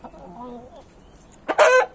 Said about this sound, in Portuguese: Esse franguinho aqui, ó.